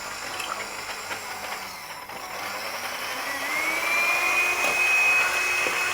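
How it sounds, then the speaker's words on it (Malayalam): An electric beater whirs steadily as it beats eggs in a bowl for a basboosa rava cake, a continuous motor hum whose pitch rises as the speed is increased, close and loud. "അതിനകത്തേക്ക് നമുക്ക് ആ മുട്ടയൊന്ന് കുത്തി ഒഴിച്ച് ഒന്ന് നന്നായിട്ട് ബീറ്റ് ചെയ്തെടുക്കണം"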